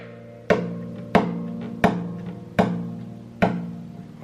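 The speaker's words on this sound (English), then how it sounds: "we move our hand back a little bit and hit this area of the guitar with our fingertips" Fingertips slap the body of an acoustic guitar as percussion, five sharp knocks at a steady, unhurried pace, each leaving a short resonant ring of the strings, close and without voices.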